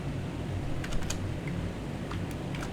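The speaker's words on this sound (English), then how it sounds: "I'm gonna type it." Keys tapped on a computer keyboard during spreadsheet work, a short run of light, irregular clicks in small clusters over a steady low background hum, fairly quiet and close, with no talking.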